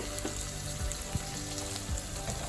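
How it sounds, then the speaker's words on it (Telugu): Masala with herbs fries in a pan for Telangana chicken curry, giving a soft, steady crackling sizzle with scattered pops, heard close and fairly quiet with no talking. "సో ఫ్రెండ్స్ ఇప్పుడైతే మనకి పచ్చివాసన అంతా పోయి బాగా ఫ్రై అవుతుందన్నమాట"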